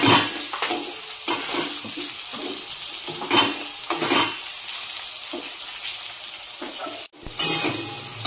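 Vegetarian pasta ingredients fry in a pan with salt added, giving a steady, close sizzle broken by repeated stirring scrapes, with a brief cut near the end.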